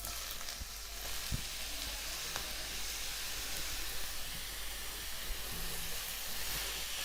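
Grated bottle gourd frying in melted ghee, a steady close sizzle and hiss with occasional small pops and stirring clicks, continuous throughout without talk.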